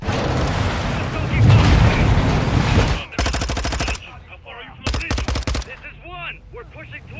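Modern Warfare 2 campaign gunfire on Realism difficulty, with a loud dense burst of shooting followed by rapid automatic rattles in separate bursts and shouted voices in between.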